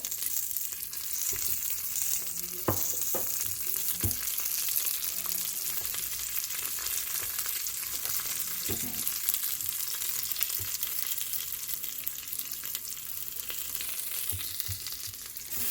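Peppers and spices frying and roasting in oil inside an Instant Pot, a constant hissing sizzle with occasional knocks and scrapes of stirring, close and without talk.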